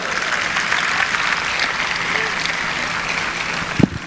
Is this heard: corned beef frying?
no